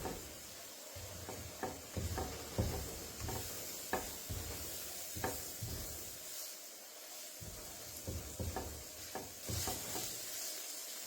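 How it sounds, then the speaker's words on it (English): Flour is stirred in a hot pan for smothered beef short ribs, a soft sizzle with repeated scraping strokes of a utensil at an uneven, unhurried rhythm. "we're going to stir this until the flour changes"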